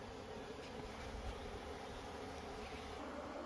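Honeybees being moved on their comb from a traditional hive into a modern hive make a continuous, even swarm buzz that stays fairly faint throughout.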